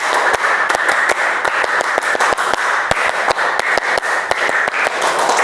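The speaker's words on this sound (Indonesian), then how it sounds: "2 kali tepuk tangan" A roomful of people clapping their hands during a concentration exercise, the sharp claps landing rapidly and unevenly in a dense, loud, continuous burst.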